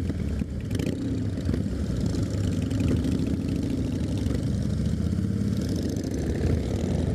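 A large rally of Harley-Davidson motorcycles gathers in Cornwall for a Land's End run, several engines idling together in a dense, continuous low rumble with faint throttle blips and no talk.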